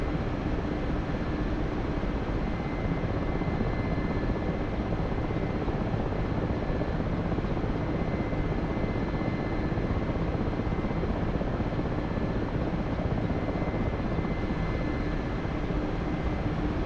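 Russian helicopter in the DCS World flight game, its rotor and engine giving a constant loud, dense rumbling whir with no breaks.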